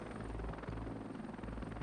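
Video game helicopter with rapid rotor thumping throughout, a steady loud chopping rhythm with a low engine drone and no talk.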